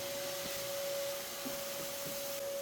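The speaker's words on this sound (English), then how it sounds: "start pulling the different layers apart and vacuuming up as many of the workers and guards and stuff in between these layers." A vacuum cleaner sucks up yellow jacket workers and guards from between the layers of a large nest's comb. It gives a steady, even whine and rushing airflow with faint knocks and rattles underneath, heard alone.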